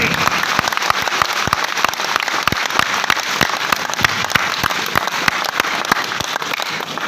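An audience at a winter business club awards celebration in Balotra, Rajasthan claps steadily, with many sharp individual claps scattered through a continuous round of applause that lasts throughout.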